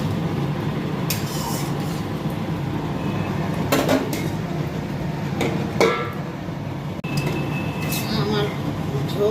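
Chana dal fritters go into a pot of boiling curry with potatoes and are covered with a lid, giving a few sharp metallic clinks and knocks over a steady kitchen hiss.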